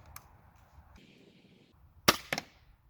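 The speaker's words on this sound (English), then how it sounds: "So we're going to shoot another one just to make sure we got it." A gunshot fired at a shield test target cracks sharply once, close and loud, with a quick second impact-like snap right after, over a low background hum and whine.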